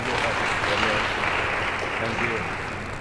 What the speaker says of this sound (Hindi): तो आइए हम उनको धन्यवाद देते हुए ताली बजाते हैं।